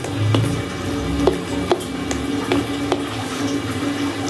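Rice flour and palm sugar batter for nagasari is stirred briskly in a pan, giving a soft thick sloshing with regular sharp scrapes of the utensil against the pan every half second or so, close and fairly loud.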